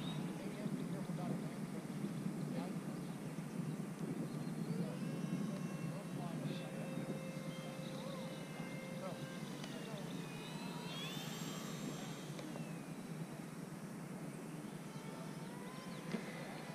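FMS Sbach 342 model airplane coming in to land, a steady broad engine drone with shifting whining tones held at a moderate distance throughout, over constant outdoor background noise.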